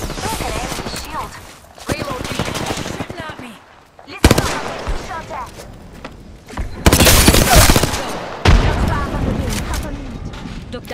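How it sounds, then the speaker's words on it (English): Enemy gunfire in the Apex Legends video game, loud bursts of rapid shots and sharp cracks recurring throughout, with a few heavier booms, all close and dense under a voice talking. "Listen up, I'm getting shot at. They're shooting at me."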